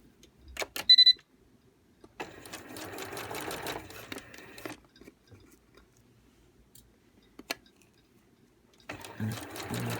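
A home sewing machine stitches a lap zipper into the center back of an A-line skirt, running in short bursts with a longer steady stretch, close and moderately loud, with quiet pauses and small handling clicks between.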